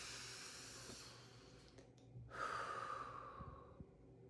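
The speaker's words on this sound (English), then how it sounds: "take a nice, easy breath" A slow, easy breath drawn in and let out softly and close, a gentle airy hiss that swells midway and fades, heard alone over a quiet room.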